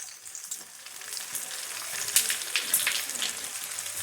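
Onion fries in a paste of garlic, ginger and cumin, a dense crackling sizzle heard close, rising and falling with bright spattering pops and no voices.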